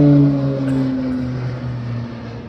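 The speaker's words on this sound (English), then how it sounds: "Cal Fire's going by and with their airplanes" Cal Fire firefighting airplanes fly past overhead near an airport, a steady droning propeller hum with shifting engine tones that fades gradually as they move off.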